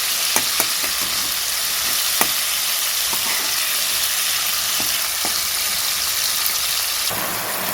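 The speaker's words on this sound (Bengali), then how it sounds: "চিংড়ি মাছের মাথাটা বাদ দিয়ে রান্নাটা করছি" Prawns with heads removed sizzle in a hot pan, a steady crackling hiss punctuated by occasional sharp pops and stirring clinks, close and continuous.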